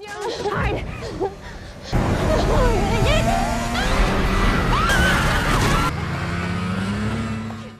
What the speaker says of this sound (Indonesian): mereka mendengar knalpot motor salju yang kian mendekat